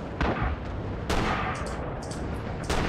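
Airstrikes and gunfire in the World War II shooter game Red Orchestra 2: Rising Storm, heard as several sharp, crackling blasts and volleys a second or so apart over a constant rumbling battlefield din.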